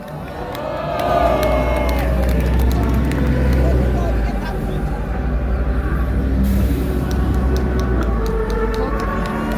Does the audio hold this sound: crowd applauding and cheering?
yes